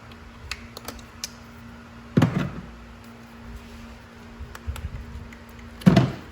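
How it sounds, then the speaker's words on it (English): Pliers work the hose clamps under the hood of a Fiat 500 Abarth, giving two sharp clacking bursts a few seconds apart. Light clicks sit between them, with no voices. "Just take some pliers to remove the clamp on each one."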